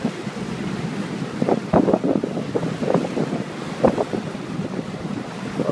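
A fishing boat rides good-sized ocean waves off Aruba in the Caribbean, the hull slapping and swishing through the swell amid strong, continuous wind buffeting the microphone.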